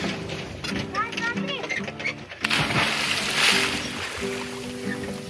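A person jumps off a sailboat into the open ocean, making a splash amid sea and wave noise, with excited voices talking and calling out around it.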